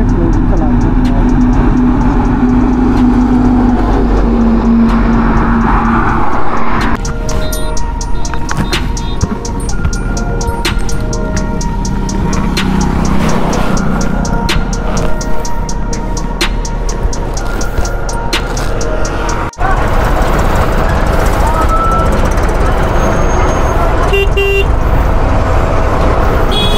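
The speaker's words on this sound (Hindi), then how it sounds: "ये अपने आगरा का ट्रैफिक, ये जबकि हम आगरा मतलब शहर के अंदर भी एंटर नहीं किए हैं, उसके बावजूद भी ये भयानक ट्रैफिक मिल रहा है" Heavy road traffic on the outskirts of Agra, India, with loud engines and repeated horn honks, some long and some short, rumbling close by while someone talks over it throughout.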